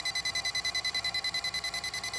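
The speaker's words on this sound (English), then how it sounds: "and it'll alarm when it gets to the slow down." Electric fishing reel sounding its slow-down alarm: a rapid, steady train of short electronic beeps, about eight per second, close and clear with no talk over it.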